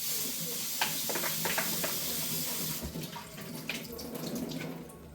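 Strawberries are washed under a running kitchen tap, with a steady close hiss of flowing water and splashing that changes tone partway through as the fruit shifts under the stream.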